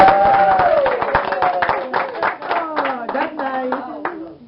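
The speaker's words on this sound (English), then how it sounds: "let's give Dorothy a round of applause" An audience at an LPN class gathering gives Dorothy a round of applause, with sharp, uneven hand claps running for several seconds under overlapping voices before tapering off.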